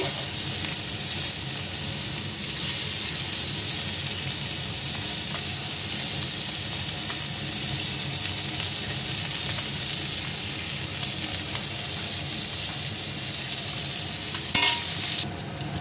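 Chopped onions and dried red chillies sizzle steadily in hot oil in a pan, a continuous close, loud crackling hiss with stirring scrapes, no voices.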